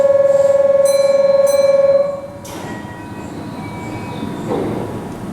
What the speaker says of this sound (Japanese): 電車が発車いたします。